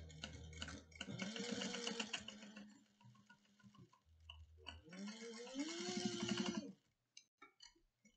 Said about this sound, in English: So we're going to sew at 3/8 of an inch.